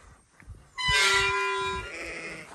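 A single loud, drawn-out sheep bleat at Dunmore Head, Ireland, close by, rising sharply out of quiet outdoor background and trailing off after about a second.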